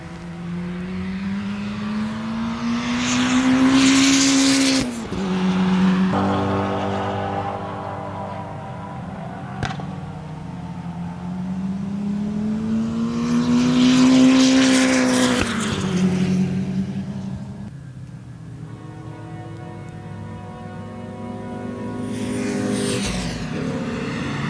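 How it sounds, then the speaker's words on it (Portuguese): Race cars roar through the tightest corner of a motor racing circuit during a track day, several loud passes rising and falling one after another, engines dropping pitch as each car brakes and accelerates away. "Então eu vou filmar um pouquinho para vocês dos carros passando aqui."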